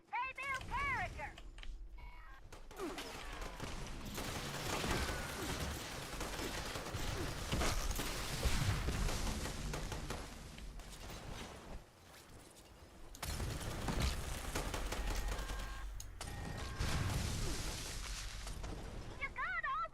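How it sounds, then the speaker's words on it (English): Explosions and bursts of gunfire from the video game Fallout 76, loud and dense over most of the stretch, with brief lulls and a voice talking over parts of it. "Don't worry about all the explosions."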